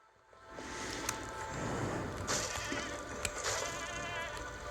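Goat bleating in the video game Minecraft Dungeons, a drawn-out nasal bleat under steady game background sound with a few short sharp accents, moderately close.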